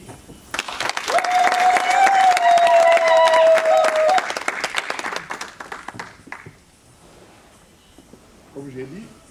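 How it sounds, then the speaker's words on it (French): Wedding guests break into loud, sustained applause for the newlyweds, with a few cheers and voices mixed in. The clapping swells, then fades after about six seconds, and quieter talk follows. "de bien vouloir les applaudir"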